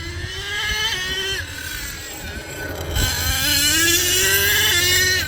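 HPI Savage RC truck with a 3-speed gearbox running in second gear, giving a loud, steady high-pitched motor and gear whine with rising and falling pitch sweeps as it revs, close up.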